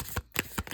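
Tarot cards are handled during a reading, producing a quick series of four crisp, close card snaps and flicks spaced evenly apart, fairly faint, with no talking.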